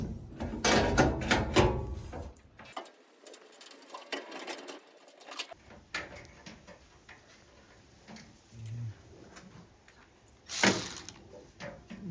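A ratchet tightens bolts during a CyberCamper installation on a Tesla Cybertruck, with bursts of close, rapid clicking separated by pauses and a brief loud clatter near the end.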